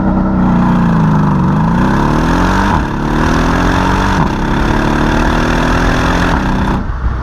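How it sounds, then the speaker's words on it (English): A Mercedes-AMG E63 with its V8 on the stock exhaust gives a loud, steady, close-up drone, rising and falling through several revs and gear changes, with no voices. "So, the E63, it sounds a lot better than the M5."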